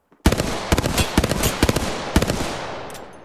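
Automatic gunfire from the Apex Legends video game plays as rapid bursts of sharp, close cracks with short pauses between volleys, heard alone over a decaying echo.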